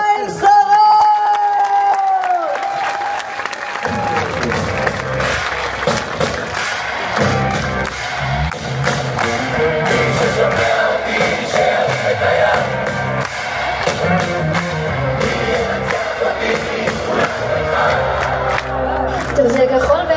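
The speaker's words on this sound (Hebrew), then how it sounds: "בואו נקבל את בוגרי המחזור במחיאות כפיים סוערות" A graduation ceremony crowd for a sixth-grade class in Rehovot claps and cheers loudly and continuously, with whoops and shouts over the applause while music plays underneath.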